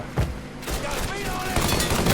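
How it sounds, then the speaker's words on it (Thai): Gunfire in the video game Mafia III: several rapid bursts and sharp reports crackle close and loud over a busy in-game background. "ปืนแม่ง ยิงไม่ดีเลยอะปืนดีดไม่เป็นไร"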